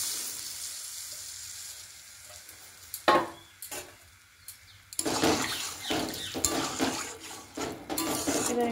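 Boiled dal tipped into a hot pan, starting with quieter sizzling and a few clanks before erupting into a loud, sustained sizzle and bubbling hiss with occasional utensil knocks.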